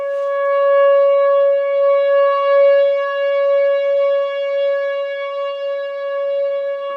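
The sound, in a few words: emergency storm siren being tested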